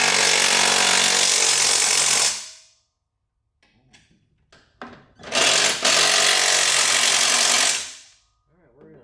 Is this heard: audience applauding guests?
no